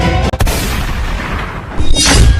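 Loud, sustained booming blast from a gunshot in a staged soldier-versus-terrorist action skit, dense and distorted across the whole clip with no speech.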